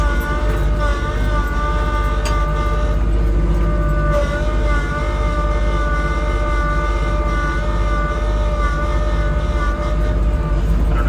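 A Kubota LX20 series tractor in high range gives a steady, loud engine drone with a persistent high-pitched whine riding on top, continuous throughout without pause.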